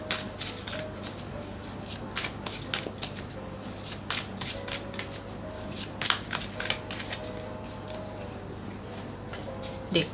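Tarot cards are shuffled in a rapid series of soft riffling snaps and flicks, close up, over a steady low hum.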